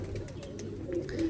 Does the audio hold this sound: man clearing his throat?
no